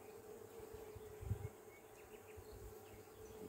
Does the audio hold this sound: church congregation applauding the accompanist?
no